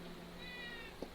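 Marley, a neighborhood cat that wandered indoors into a home studio, gives a single faint, brief meow over a steady background hum, followed by a soft bump.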